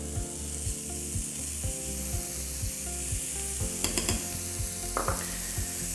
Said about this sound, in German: Dazu nehmen wir Schinkenwürfel oder Speckwürfel und rösten die in einer Pfanne an.